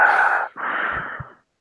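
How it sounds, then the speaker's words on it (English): Heavy breathing heard close and loud during a live online chat: two long, rough breaths, the second ending in a couple of soft snorts before stopping. "just heavy breathing now."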